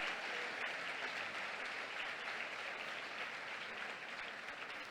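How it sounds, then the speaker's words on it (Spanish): Sustained applause from a church congress audience fills the hall, a dense, steady wash of clapping at even loudness throughout, with no voices standing out. "otro aplauso"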